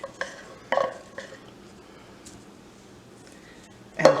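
Cherry pie filling being scraped out of a can with a utensil for a chocolate cherry cake, giving a few close, short metallic scrapes near the start and a louder scrape at the end, with quiet gaps between.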